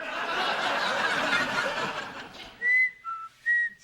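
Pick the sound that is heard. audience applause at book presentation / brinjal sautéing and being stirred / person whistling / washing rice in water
person whistling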